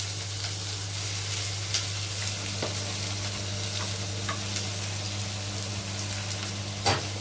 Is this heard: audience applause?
no